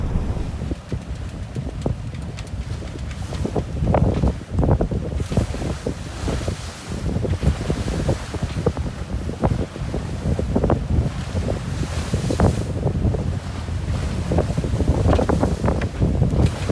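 Strong wind buffets a sailboat under raised sails, sailing close-hauled, with steady gusty roar and water slapping against the hull throughout, no voices.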